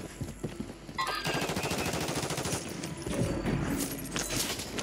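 Fast automatic gunfire in the video game Warzone rattles in quick rhythmic bursts, fairly loud, with a brief pause and a second volley, and no voices over it.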